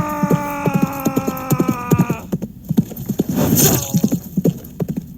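Horse hooves clip-clop at a gallop in the fantasy game Knight Manager, loud and rhythmic, with a horse whinnying over the first half and then falling away as the hoofbeats carry on.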